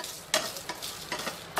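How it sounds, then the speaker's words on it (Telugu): Broken dried red chillies dry-roasting in a pan on the stove, with a soft steady sizzle and a few short scraping stir strokes, close and alone. "ఎండుమిర్చిని ఇలా వేయించి పొడి చేసుకొని వేసుకుంటే మనకు తాలింపు మంచి టేస్ట్ ఉంటుంది"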